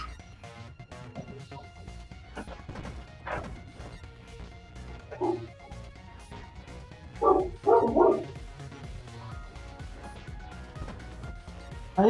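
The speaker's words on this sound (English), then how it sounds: "Hey Diesel, don't bark at me." A dog named Diesel barks in a few short, loud bursts close by, with a steady wash of background sound and some talking underneath.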